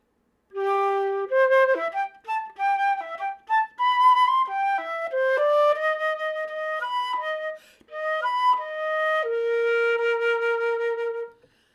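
A flute plays the Peter theme from Peter and the Wolf during a storytime quintet assembly, a clear, bright solo melody of short phrases and held notes, close and alone without talk.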